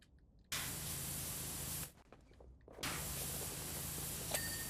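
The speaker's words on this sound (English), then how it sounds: "spraying water on decks" A pressure washer sprays water on decks in PowerWash Simulator 2, a loud steady hiss that cuts out briefly and then resumes, close and with no talk over it.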